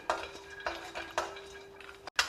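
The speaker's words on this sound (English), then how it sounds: "Next I have some cashew nuts broken in halves. Dry roast this too." Cashew nut halves dry roasting in a pan while a snack is made, with several scraping stirs in a steady rhythm, each a short rattling scrape close up, and a faint steady hum beneath.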